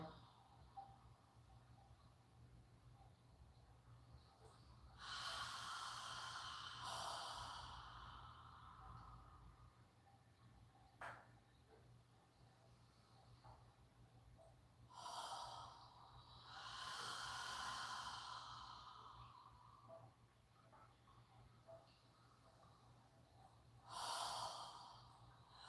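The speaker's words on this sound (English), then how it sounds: "Filling your lungs completely with each inhale. And letting it all out on each exhale." Deep yoga breathing: three slow, long breath cycles, each a drawn-out airy inhale followed by a whooshing exhale, close and clear over a steady low hum.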